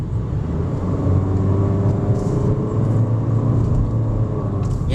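The 1.5-litre naturally aspirated engine of a 2020 Honda City compact sedan drones steadily and loudly, a constant low rumble and whir with no change in pitch throughout.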